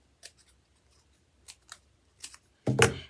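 Scissors snipping around a paper button center for a rainbow garden craft, several short crisp cuts spaced irregularly, ending in a louder, longer snip, close and quiet otherwise.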